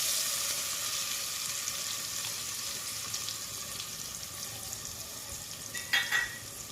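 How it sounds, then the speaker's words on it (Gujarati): Roasted onion sizzles in hot oil with cumin, hing and turmeric for a village-style brinjal bharta, a steady close frying hiss with a brief stir or clatter near the end. "એમાં આપણે શેકેલો કાંદો ઉમેરી દઈએ છીએ."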